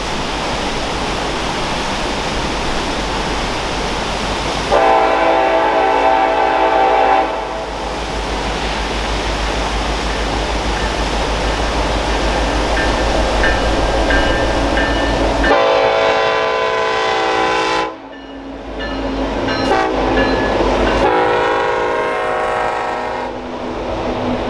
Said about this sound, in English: Three big EMDs were in charge of a morning eastbound HPVO-DEN, a BNSF trackage rights